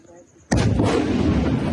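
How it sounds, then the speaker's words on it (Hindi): Artillery shelling in El Fasher, Sudan, erupts suddenly as a heavy boom followed by a continuous loud rumbling roar that fills the rest of the moment. "हम दिन रात गोलाबारी का सामना कर रहे हैं। ये फिर शुरू हो गई।"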